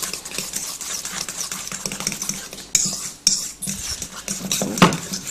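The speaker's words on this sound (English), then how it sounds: "So all you have to do is just whisk them together like that." Eggs and cheese for carbonara are whisked together in a bowl, giving a quick, close, rhythmic metallic clatter with a few louder knocks against the side.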